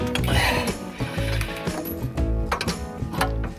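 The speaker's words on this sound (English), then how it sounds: "Now I just tighten up the nut." Tap valve nut being tightened during a bathroom pipework job, giving a dense run of close metallic ratcheting clicks and gear-like mechanical rattling that stays steady and loud throughout, with no voices.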